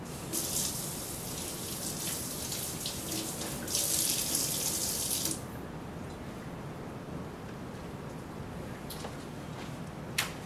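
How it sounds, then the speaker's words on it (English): Cold tap water runs steadily into a sink as a raw steak is washed beneath it, a loud continuous splashing gush that carries on through the entire stretch with no voice over it. "You can just use cold tap water."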